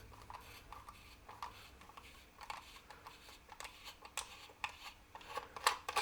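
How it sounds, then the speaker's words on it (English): Small screws being unscrewed from the underside of a coffee machine, with quiet scratchy clicks and metallic ticks of a screwdriver turning, intermittent and close, with sharper taps near the end. "maybe I need to unscrew them from the bottom as well"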